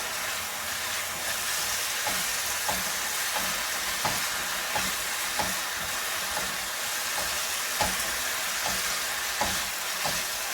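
Minced ground beef for tacos frying in a pan, a loud continuous sizzle with regular scraping strokes of a spatula about once a second, close and unbroken.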